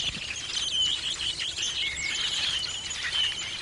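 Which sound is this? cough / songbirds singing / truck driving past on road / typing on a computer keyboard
songbirds singing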